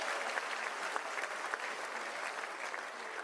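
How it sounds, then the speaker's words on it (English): Audience giving a round of applause at a live show, continuous dense clapping heard faintly and evenly throughout, with no voices standing out. "Everybody, give him a round of applause."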